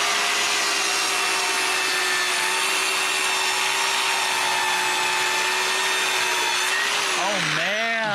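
A DualTools CS450 dual saw cuts through wood trim with a loud, steady high-pitched whine that holds evenly and then dips and wavers as the blades slow near the end.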